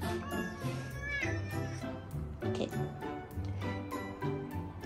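A pet cat meowing indoors, several short meows in quick succession mixed with a person talking over them, fairly close and moderately loud.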